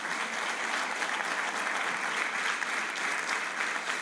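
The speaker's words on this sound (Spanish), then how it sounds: "Dale un fuerte aplauso al Señor Jesús." Congregation applause during a church sermon, a steady wash of many hands clapping together, dense and continuous at moderate level throughout, without voices on top.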